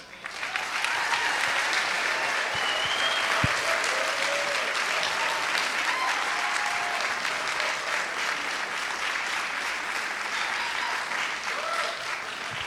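An audience gives sustained, loud applause for the keynote speaker at an Ignite 2016 event, a dense, even wall of clapping lasting over ten seconds, with a few faint voices and whoops underneath.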